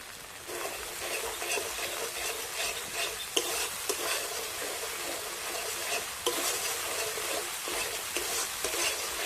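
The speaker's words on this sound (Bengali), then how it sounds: "টমেটো সসটা দিয়ে একটু নাড়াচাড়া করে নিয়েছি।" Tomato sauce and ginger paste stirred in a frying pan for milk-free paneer make a continuous close scraping and sizzling, with rhythmic spoon strokes and occasional sharper knocks against the pan.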